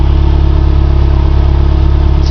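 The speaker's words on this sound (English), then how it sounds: "As you can see, the exhaust is nice and smooth." A 1990 Dodge Daytona Turbo idles smoothly on a cold day, its exhaust giving a loud, steady, low rumble with even pulses and no misfire, close to the tailpipe.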